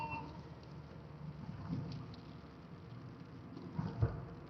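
Steady rain hiss heard from inside a car driving through Atlanta, with low road rumble beneath and a brief louder spatter near the end.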